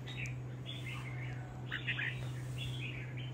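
A red-whiskered bulbul sings short bright chirping phrases, fairly faint, over a constant low electrical hum.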